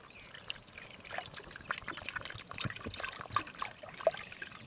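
Water trickles and pours steadily into a cooking pot at a lakeside campsite, a close, continuous splashing stream of moderate loudness with small bubbling bursts and no talk.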